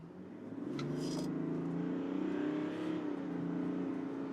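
A 2025 GMC Sierra SLT crew cab pickup's 3.0L Duramax diesel engine revs and pulls under acceleration in sport mode, a steady, moderately loud drone rising in pitch, with a brief higher whine near the start.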